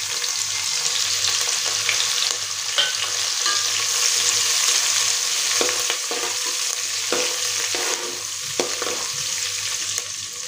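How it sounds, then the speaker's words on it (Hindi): Fennel, coriander and cumin seeds sputter in hot oil with a steady broadband sizzle and scattered sharp pops, close and continuous throughout. "सौंफ, धनिया और जीरा को बढ़िया चटकने देंगे"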